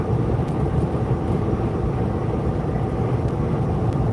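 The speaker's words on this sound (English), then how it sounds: "Get some of that ASMR engine sound while you're doing your thing there" A semi truck engine drones steadily from inside the cab while hauling on the highway, a loud, constant low rumble with no pauses.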